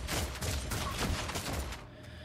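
Gunfire from the video game Warhammer 40,000 Deathwatch crackles in a dense, continuous fusillade of overlapping shots and impacts, fairly quiet and ending abruptly.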